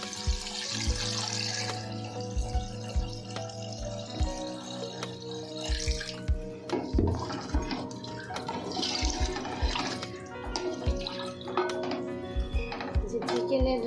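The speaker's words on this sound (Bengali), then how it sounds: "চালে পানি দিয়ে দিচ্ছি পরিমাণ মতো।" Water is poured from a pot or tap into rice for chicken pulao, making a steady, continuous splashing and gurgling stream with occasional utensil clinks throughout.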